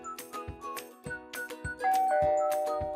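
A SkyBell video doorbell chime rings out as a bright, tonal ding-dong, with repeated clear notes and a longer sustained tone near the end, close and fairly loud with no talking.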